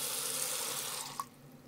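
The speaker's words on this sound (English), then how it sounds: "The water is still draining a little slow." Water runs into a sink and drains steadily after a baking soda and vinegar treatment of a slow drain. The flow is continuous and close, then cuts off near the end with a short gurgle.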